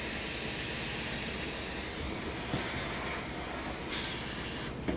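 Steady, loud hiss of sandblasting as abrasive blasts stubborn powder coat off metal, continuous and close with slight surges, alone without talk.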